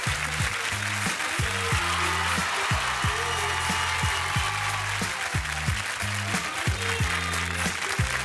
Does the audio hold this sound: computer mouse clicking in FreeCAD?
no